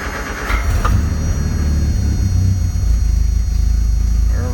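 A 1975 MG Midget engine cold-starting inside a closed garage, a loud steady low rumble of the idling four-cylinder running throughout with no talk.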